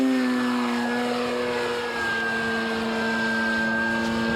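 A radio-controlled model aeroplane flies overhead with a steady, sustained propeller drone whose pitch shifts slightly as it passes.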